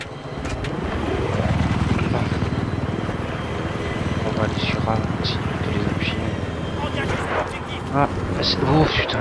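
A helicopter in the Battlefield 3 video game roars with a steady, loud rotor and engine drone throughout, mixed with combat noise, while players talk over it.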